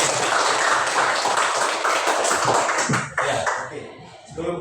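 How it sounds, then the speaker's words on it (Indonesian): Students clapping in a classroom, a fairly loud wash of applause that thins out toward the end as a few scattered claps and room noise remain. "tepuk tangan dulu untuk kamu"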